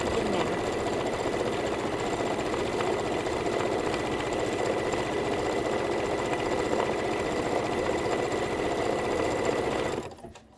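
A domestic sewing machine pieces fabric in one continuous, fast, even whir of stitching, close and loud, stopping abruptly at the very end.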